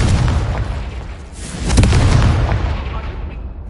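A Confringo blasting spell explodes in Hogwarts Legacy with a loud, broad burst and a rumbling tail that gradually fades, heard over game ambience with a voice nearby.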